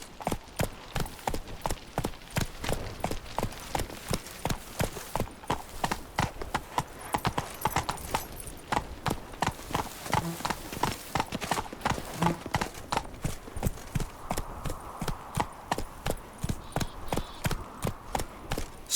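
Roach, the horse in The Witcher 3: Wild Hunt – Blood and Wine, clip-clops along in a steady, close, evenly spaced hoofbeat rhythm that runs loud and continuous throughout.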